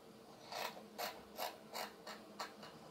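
A sewing machine stitches a small rectangle around a shirt sleeve placket opening, giving a faint, soft, regular mechanical rhythm of about six evenly spaced pulses.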